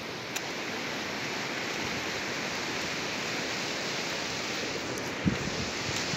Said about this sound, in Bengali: ওই যে দেখো ওয়াটারফলস